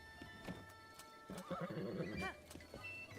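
A horse in the video game The Legend of Zelda: Breath of the Wild whinnies loudly with a drawn-out, wavering neigh, set among soft hoof clip-clops and quiet game ambience.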